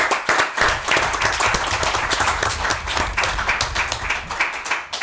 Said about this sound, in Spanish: una grande salva de palmas.